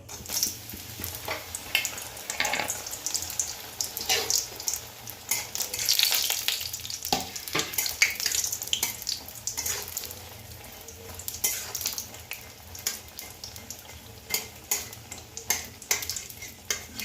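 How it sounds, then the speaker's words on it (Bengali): Lentil badi fry in hot mustard oil in a kadai, a steady crackling sizzle throughout with frequent stirring scrapes and light metal clinks, close and without talk. "আমি এখন বড়িগুলো ভেজে নেবো"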